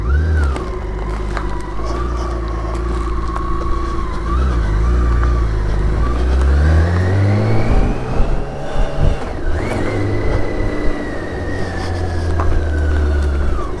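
A BMW K1600 GTL motorcycle pulling away on a cold, sunny road, its six-cylinder engine rising steadily in pitch through the gears with a shift around the middle, heard close and loud with wind noise, no talk.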